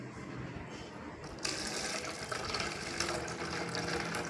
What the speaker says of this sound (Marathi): ह्या भागामध्ये आपण पाणी भरायचं